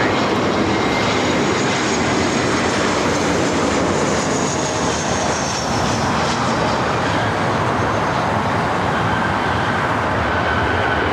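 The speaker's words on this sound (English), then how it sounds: "1446, coming in from Minneapolis in the A321." Airbus A321 jet arriving at LAX from Minneapolis, a loud steady roar of engines with broadband rumble holding across the whole stretch, no voices over it.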